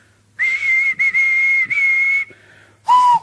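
Steam engine whistle, several long steady shrill blasts in quick succession, loud and close, separated by brief breaks, with a final shorter blast at a lower pitch after a pause.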